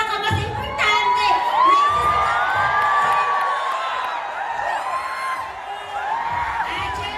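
A crowd at a Filipino motivational event shouting and cheering together, a loud sustained roar of many voices with whoops rising and falling throughout.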